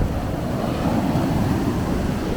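Ocean surf rolls steadily onto the beach at Edisto Island, South Carolina, a continuous broad wash of breaking waves with some wind rumble, loud and unbroken throughout, no voices.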